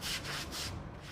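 Brooms sweeping flood debris on a quiet, mostly carless street after severe UK flooding, giving steady close scratchy strokes in three or four repeated pulses with no voices.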